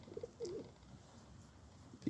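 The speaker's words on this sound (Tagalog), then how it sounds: "pagpapakain natin ng ibon" Birds at a feeding spot, with small eagles mentioned nearby: soft dove-like cooing, two or three short calls close together, faint against a quiet outdoor background.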